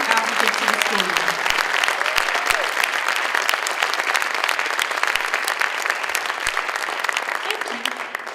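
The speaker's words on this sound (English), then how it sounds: "let's give one final applause for all of our scholarship recipients" Sustained applause from a gala audience honoring scholarship recipients, dense steady clapping with faint voices and cheers mixed in, lasting throughout before tapering slightly at the end.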